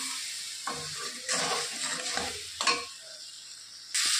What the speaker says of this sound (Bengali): জলটা দিয়ে কষিয়ে নেব মশলাটা